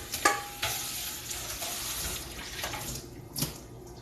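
A mixing bowl gets a quick rinse under a running kitchen tap while preparing banana pudding meringue, with steady splashing and a few sharp clinks of the bowl against the sink.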